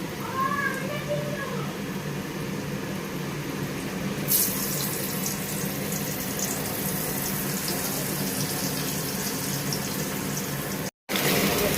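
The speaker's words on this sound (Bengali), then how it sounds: "এবার আলুগুলো ভেজে নেবো হালকা করে" Potatoes frying in oil give a continuous sizzling hiss that runs steadily throughout, briefly cutting out near the end, with a voice talking over it.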